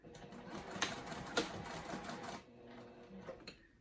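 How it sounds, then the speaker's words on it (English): A sewing machine runs a long basting stitch at stitch length 4 on a zip crossbody bag, a steady dense mechanical whir with a couple of sharp clicks, quieting briefly near the end. "I'm going to do a basting stitch of 4"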